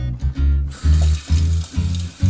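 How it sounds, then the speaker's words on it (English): Water pouring from a kitchen tap into a cooking pot, loud, close gushing in several uneven bursts with brief breaks between them. "you can start by adding some water into your pot"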